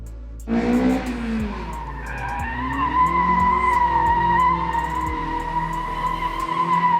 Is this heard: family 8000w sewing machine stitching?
no